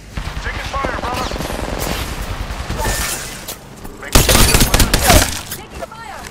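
Bursts of automatic gunfire from the Apex Legends video game rattle out in rapid volleys, with a louder cluster near the end, mixed with game voice callouts and effects.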